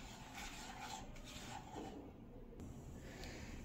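Semolina dry roasting in a pan over very low heat, stirred gently: a soft, steady scraping and rasping texture that runs continuously at low level with no voices.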